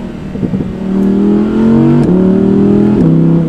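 An Audi R8 RWS V10 accelerates hard from close range, the engine note rising through gear shifts with brief dips between them. A few crackling exhaust pops come early, before the steady high-revving drone.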